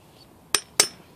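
Two old metal hammers knock together while being handled, giving two bright, quick metallic clinks about a quarter second apart; close and alone.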